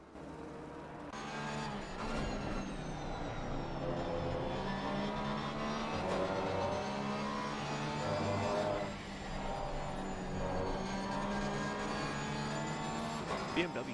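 Porsche and BMW race cars battling through turns 4 and 5 at Laguna Seca in a racing video game, engines droning steadily with shifting pitch throughout, a commentator talking over the engine noise.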